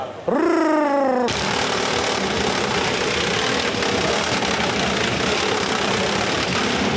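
A damaged FIRST Robotics robot intake makes a loud, steady mechanical rattle that drones on without pause, like a rough motorcycle engine running hard, preceded by a brief rising whine at the start.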